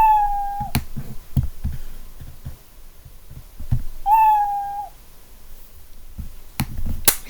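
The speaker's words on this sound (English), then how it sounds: "So you can make a meow sound." Two short cartoon cat meows from the Scratch programming sound library, each a clear, slightly falling tone, with sharp mouse clicks scattered around and between them.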